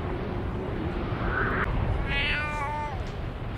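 Cat bus from My Neighbor Totoro giving a drawn-out, wavering meow over a dense, steady bed of film background sound and music, fairly prominent in the mix.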